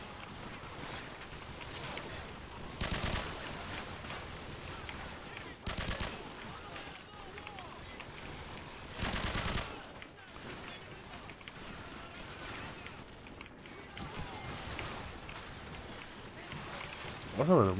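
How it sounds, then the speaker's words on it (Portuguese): Heavy video game gunfire, dense bursts and fusillades of shots crackling throughout with louder volleys at intervals, mixed with someone talking over the noise. "É muito tiro, mano. Muito tiro, tiro, abaixa, é muito tiro."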